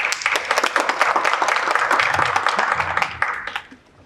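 An audience at an energy technology conference applauds a presenter, a dense, loud round of clapping that holds steady and then tapers off at the end.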